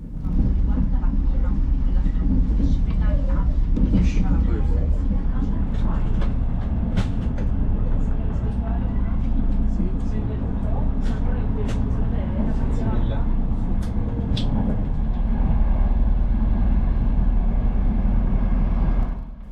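A constant low rumble and hum fills the business class cabin of an Italian high-speed train in motion, with faint clicks and rattles on top and a person talking throughout.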